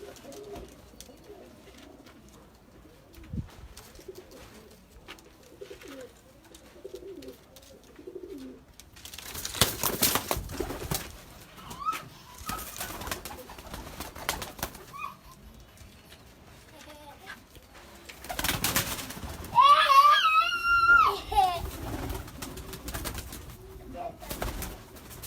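Breeder pigeons give soft intermittent coos, close by, with stretches of people talking and louder bursts of handling and movement in between.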